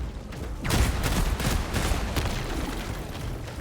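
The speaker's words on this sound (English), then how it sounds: "That purple explosion freaked me out." A purple explosion in a video game bursts loudly, followed by a few seconds of rumbling, crackling debris and gunfire-like bangs close by, with no voices.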